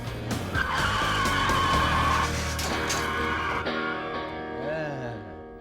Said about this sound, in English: takes the car up to 45 before slamming on the brakes